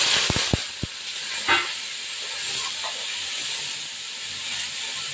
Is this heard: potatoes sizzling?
yes